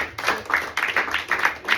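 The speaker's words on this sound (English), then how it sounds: "a round of applause." A classroom full of people clapping together, a steady patter of applause that swells and dips for a couple of seconds.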